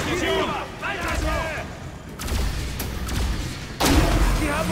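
Cannon fire in the video game The Bureau: XCOM Declassified, heavy booming thuds landing over busy battle noise, with a loud blast near the end and shouted voices through the first half.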